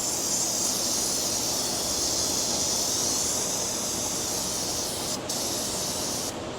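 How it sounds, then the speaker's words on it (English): Cleaner sprays in a continuous, close hiss onto the CVT transmission of a Nissan Pathfinder, steady for several seconds with a couple of brief breaks near the end. "let's give it a quick spray down with some cleaner"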